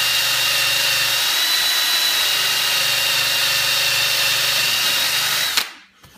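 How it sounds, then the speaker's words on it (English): A power buffer polishes a freshly sanded surface, a steady loud whine droning without a break before cutting off abruptly near the end. "So I'll have to go back and rebuff it and buff these lines out."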